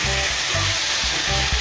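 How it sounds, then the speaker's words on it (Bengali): Pieces of taro fry with spices in a pan, a loud steady sizzle with soft rhythmic stirring scrapes every half second or so, close by and without talk. "দেখুন কচুটা আমার ভালো করে ভাজা হয়ে গেছে, ভালো করে কষা হয়ে গেছে মশলা দিয়ে।"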